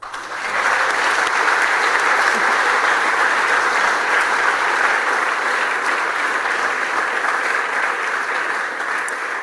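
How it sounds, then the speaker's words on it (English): A large crowd at a film award ceremony at Filmfest München, honouring Stellan Skarsgård, fills the hall with loud, even applause that swells in and holds for around nine seconds. "Another round of applause."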